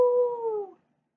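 A person imitates a wolf howl with the voice, a single sustained tonal howl that glides slightly downward and fades out after under a second.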